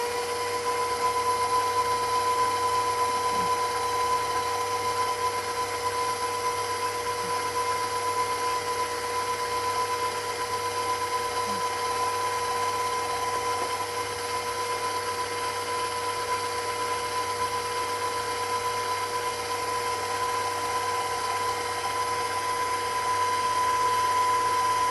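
Electric mixer running at medium speed, beating waffle cookie batter with eggs, gives a steady, even motor whine and hum that continues unbroken for the whole stretch without any voices.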